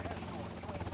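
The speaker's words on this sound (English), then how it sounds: "I'm not sure if this helicopter will stay, but it is what it is." A helicopter in the Grand Theft Auto: Vice City video game gives a steady pulsing rotor thrum under a person talking, brief and moderately loud.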